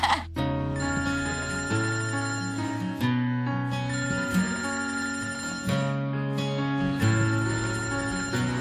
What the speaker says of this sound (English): waiting for the phone to ring